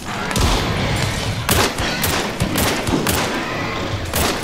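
Gunfire in the video game Hunt: Showdown rings out in loud, dense bursts, with repeated sharp shots and booming thumps over a constant noisy battle background.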